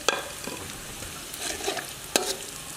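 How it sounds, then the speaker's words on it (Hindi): Whole spices and chili fry in oil for Kabuli chicken pulao, giving a soft, steady sizzle punctuated by a few sharp stirring scrapes. "इन सभी मिसालों को थोड़ी देर के लिए ऑयल में भून लेंगे।"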